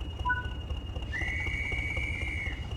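A guard's whistle in a train simulator game: a single long, shrill blast lasting over a second, preceded by two tiny chirps, heard over a low Class 20 diesel engine rumble.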